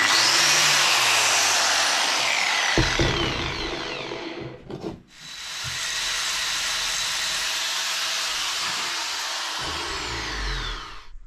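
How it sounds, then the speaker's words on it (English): A grinding disc shaping a homemade fishing lure, a loud steady high whine that cuts out briefly midway with a few knocks, then resumes at full strength. "So get the grinding disc on."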